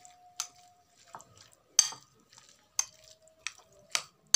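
Chopped cabbage is mixed by hand with chopped tomato and mustard oil for cabbage paturi, with soft squelchy stirring and a few sharp utensil clinks spaced irregularly against a quiet background.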